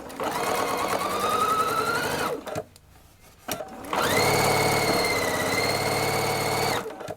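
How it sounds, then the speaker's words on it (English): A sewing machine stitches quilt pieces for a star block at an even, fast whir, runs about two seconds, pauses briefly, then resumes for a longer stretch, close and loud with no talking. "So then we can just start sewing."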